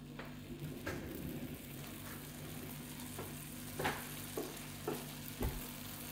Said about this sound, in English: it's just starting to melt down. So also chuck a bit of cheese in over on that side.